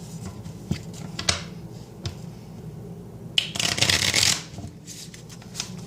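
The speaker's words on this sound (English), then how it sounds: "you're going to take the deck that you cut and you're going to shuffle it in" A deck of playing cards is riffled and shuffled close by, with soft taps and a burst of rapid fluttering as the halves interleave, followed by a few light handling sounds.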